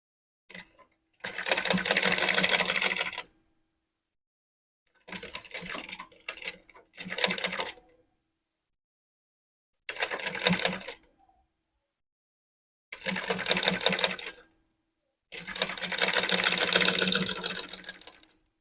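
A sewing machine stitches threads onto a bridal hand fan in several loud, close bursts of varying length, separated by silent pauses, with no talking.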